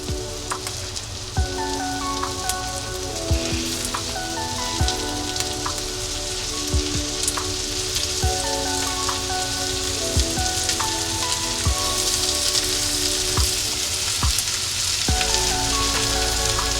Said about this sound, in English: you can fry little by little, you don't have to fry all together